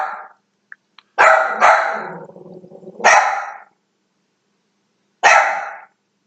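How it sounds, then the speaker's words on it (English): A dog barks loudly several times nearby, short sharp barks with pauses between, one trailing into a low growly whine. "what is she barking at?"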